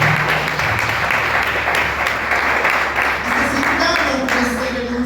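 A church congregation applauds, a dense steady roar of clapping from many hands, loud and close, with faint voices mixed into the crowd noise.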